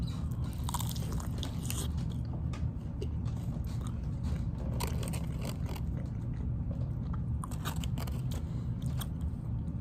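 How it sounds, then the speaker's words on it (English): Fried chicken drumsticks are bitten and chewed close to the microphone, giving repeated crisp crunches over about ten seconds against a steady low background hum. "Just listen to this crunch though on these."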